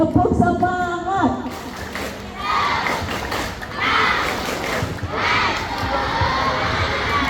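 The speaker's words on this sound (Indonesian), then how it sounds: "kita kasih tepuk yang biasanya adik-adik tahu nggak tepuk semangat?" A group of children chant and shout together loudly in a police outreach session for kids, with bursts of crowd noise and rhythmic clapping mixed into their voices.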